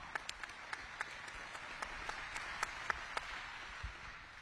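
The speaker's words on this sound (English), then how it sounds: "Give yourself a round of applause," Audience in Iowa applauding themselves, sparse, fairly faint clapping with distinct individual claps spread through a quiet room.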